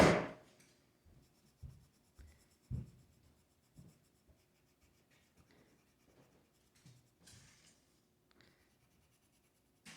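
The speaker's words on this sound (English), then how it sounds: "Pushing with a pencil." Pencil shading triangles to a dark value in a geometric gemstone drawing, a close scratchy rubbing on paper in irregular bursts of short strokes separated by brief pauses, with no talking.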